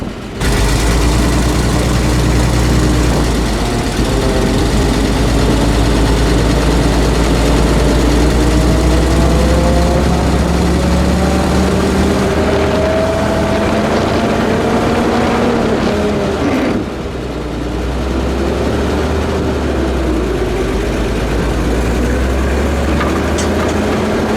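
A classic World War II military vehicle with a manual unsynchronized four-speed gearbox rumbles loudly, its deep engine note rising and falling through gear changes, with a brief dip mid-run before the heavy drone resumes.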